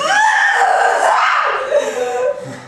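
A woman screams in a staged dramatic reading, one long loud wavering cry that slides downward and trails off, close and alone.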